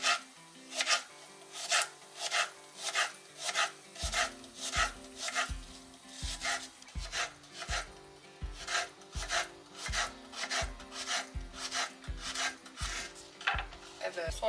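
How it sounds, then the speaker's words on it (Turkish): An onion is sliced thinly with a knife on a wooden cutting board in a home kitchen: a steady series of crisp, close chops at a brisk, even rhythm, with no talking. "Soğanı böyle doğrayacağım."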